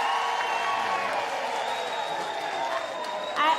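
Audience applause and cheering at a university graduation ceremony in a large hall, a steady sustained wash of clapping throughout with a brief louder swell near the end.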